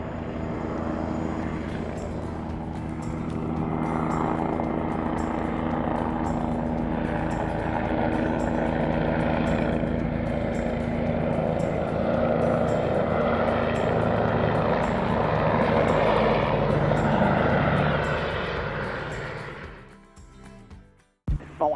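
A small propeller airplane engine drones loudly and steadily close by at a desert airport in Mojave, holding a constant hum before winding down and cutting off at the end.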